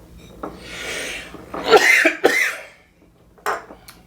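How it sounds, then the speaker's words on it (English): A close cough burst, rough and breathy, preceded by sniffing and rustling and followed by a brief quiet lull and a short scrape. "Look what I did. I coughed."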